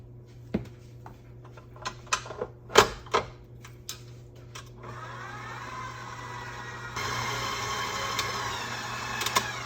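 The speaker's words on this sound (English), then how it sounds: "I'm gonna go ahead and gradually add in the flour, salt, and soda, okay? While mixing in between." Clicks and clatter give way to an electric mixer whirring steadily as it blends cookie batter with flour, salt and soda, a close, even motor hum that steps up a little louder midway.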